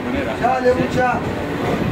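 A Howrah–Digha local train rolls along with a continuous low rumble and faint rail whine, while a person talks close by over the noise.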